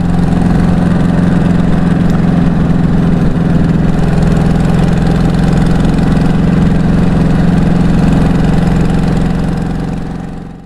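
A motorcycle engine idles loudly and steadily up close, a low rumbling drone with a rhythmic ticking puff like an exhaust leak, no talking.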